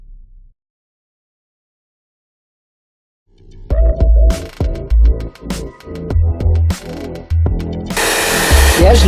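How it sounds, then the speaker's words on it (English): A handheld hair dryer blows on fresh sealer coating a DIY RC army personnel transporter model. After a few seconds of silence, a close, whirring motor starts in uneven bursts, then settles into a loud, steady rushing blow. "Use the hair dryer to dry it off a little bit."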